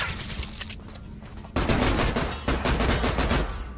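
Rapid automatic gunfire in the shooter video game Adaca. A moderate burst of shots gives way midway to a louder, denser stream of fire that continues to the end.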